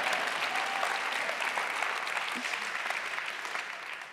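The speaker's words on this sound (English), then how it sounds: "Can I get an applause for that?" An audience at a social entrepreneurship awards event applauds, a dense, steady wash of many hands clapping that fades gradually toward the end, heard at a distance as a full room.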